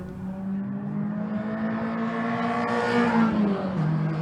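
Race car engine at Laguna Seca during an endurance race, a continuous droning roar that rises in pitch and then eases off, mixed with steady track noise and no voices.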